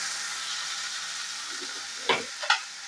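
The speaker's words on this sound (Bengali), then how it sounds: "এখানে আমি মশলাটা কষতে শুরু করে দিয়েছি অলরেডি" Spices sizzle and fry steadily in a pan while being cooked down for a mutton curry, a continuous hiss, followed by a few sharp scraping knocks of a spoon stirring against the pan near the end.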